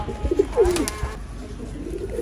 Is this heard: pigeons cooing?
yes